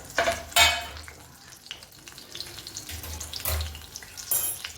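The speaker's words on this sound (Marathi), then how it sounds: "मस्त भेंडी फ्राय होऊन जाईल आपला" Stuffed okra fries in a pan, a soft sizzling hiss broken by a few louder bursts of spattering and stirring, close by and without talk.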